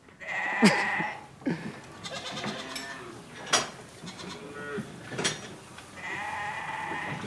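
Goats on a goat farm at Noyal-sur-Vilaine bleat repeatedly, several loud calls rising over a busy barn murmur of other animals.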